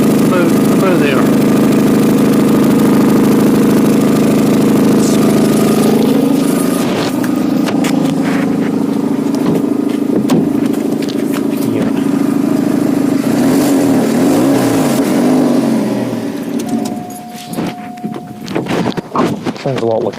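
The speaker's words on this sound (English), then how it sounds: "It's flexi, but the exhaust has blown." A Vauxhall Astra H with a blown exhaust flexi downpipe idles close by with a loud, rough, sputtering drone and slight revving swells, quieting and growing uneven near the end.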